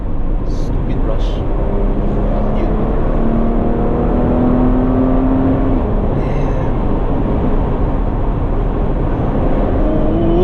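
A 2019 Porsche Cayenne S engine pulls hard under acceleration, its rising drone and rush running steadily beneath someone talking throughout.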